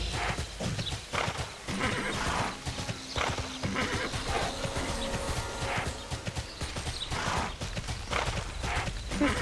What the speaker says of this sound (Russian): Быстрее, лошадка, ну быстрее.